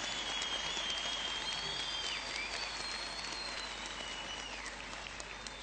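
An audience in a hall applauding, a dense and steady wash of clapping that continues throughout at moderate loudness, with a faint whistle-like tone drifting above it.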